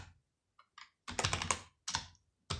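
Typing on a computer keyboard, close and quiet, comes as a few scattered single keystrokes followed by short clustered bursts of rapid key clicks with silent gaps between them.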